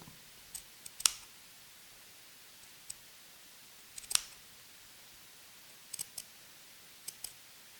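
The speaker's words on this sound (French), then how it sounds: "je vais glisser mes ciseaux" Quiet, close snips of scissors cutting through faux fur fabric, a few scattered crisp clicks spaced irregularly over soft background hiss.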